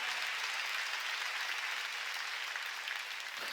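A church congregation applauds throughout a Sunday worship service, a continuous, even wash of many hands clapping at moderate volume with no break.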